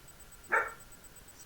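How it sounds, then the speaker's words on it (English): A single short dog bark, fairly faint and distant, over quiet background hiss with a soft repeating high tone. "Sorry if you hear my dog in the background"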